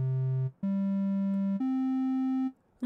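A soft, hollow triangle-wave tone from the Helm synthesizer, slightly brighter than a pure sine, stepping up through three sustained pitches with short breaks between them.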